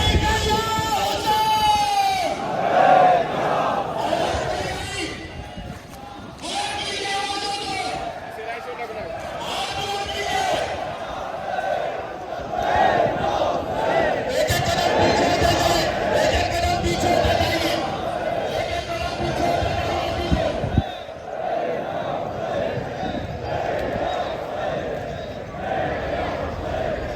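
A large mourning crowd chants "Labbaik ya Hussain" in loud repeated bursts, voices rising and falling in waves while a leader calls out over a loudspeaker between the chants.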